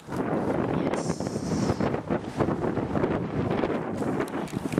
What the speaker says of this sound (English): I freaking love the wind.